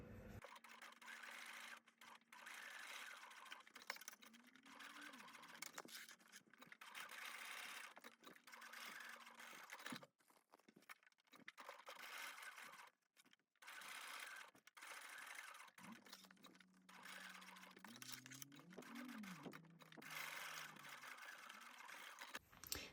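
A sewing machine stitching a bowler bag 1/8 inch from the edge runs in close, rapid mechanical bursts with a humming motor tone, pausing between runs and restarting, alone without talk.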